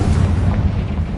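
A Confringo spell bursts in Hogwarts Legacy as a dense, rumbling explosion, loud and close, its deep roar sustained for about a second with no voices.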